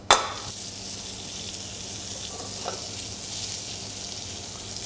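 Shallots and grated fennel bulb with salt and pepper hit a hot pan with a sharp sizzle, then keep frying steadily at close range.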